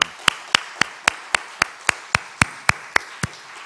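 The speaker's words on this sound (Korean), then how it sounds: "축하 박수 한번 쳐줄까요?" A church congregation at a young adults' worship service claps in congratulation after a baptism: about fourteen evenly spaced, sharp claps in a steady slow rhythm, close and distinct.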